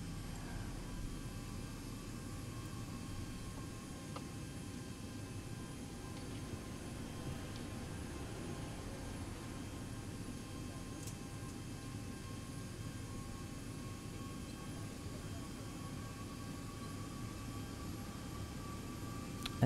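Steady low rumble and hiss of Boeing 737-800 jet engines at idle in a flight simulator, a constant even drone filling the whole stretch with no talk.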